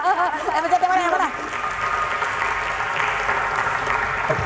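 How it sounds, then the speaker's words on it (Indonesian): A canned applause sound effect is triggered from a button on a studio talk show, a brief burst of crowd clapping that follows over chattering, laughing voices, the clapping carrying on fairly evenly to the end. "Tepuk tangan juga itu"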